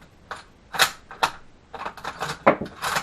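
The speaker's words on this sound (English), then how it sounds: "then you simply push the rounds in like that" Rifle cartridges are pushed from a stripper clip into an M1903 Springfield magazine, giving a series of close, sharp metallic clicks and snaps in an uneven rhythm, with no talk.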